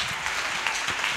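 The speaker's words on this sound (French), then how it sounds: "Acclamation Jésus-Christ." Crowd applause from a church or revival congregation in Benin, a steady dense wash of clapping and cheering throughout, fairly loud and close with no clear speech.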